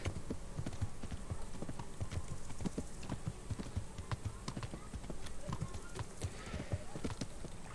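Horse hooves clip-clop steadily in a continuous rhythm while riding in the medieval video game Kingdom Come: Deliverance, fairly close, with faint ambient outdoor game sound beneath.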